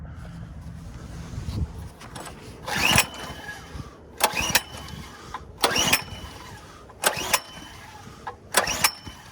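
A tractor engine with the choke on tries to start, giving five or six sharp cranking bursts at steady intervals, each sputtering briefly before dying out, close and fairly loud with quiet gaps between.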